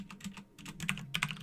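Typing on a computer keyboard while entering router configuration commands, a quick run of close, light key clicks in irregular bursts with no voice.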